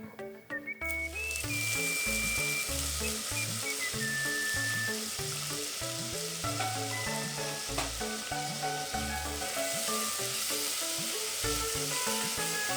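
Elephant foot yam goes into a pan of sizzling cumin for aviyal, making a bright, continuous frying hiss that runs beneath steady background music.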